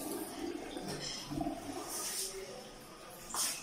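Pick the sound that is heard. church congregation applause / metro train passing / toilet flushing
toilet flushing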